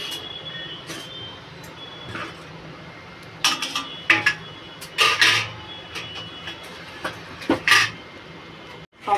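Garlic cloves, half an onion and tomatoes rubbed against a metal grater, with irregular scraping strokes and clattering knocks of the grater and utensils in a home kitchen.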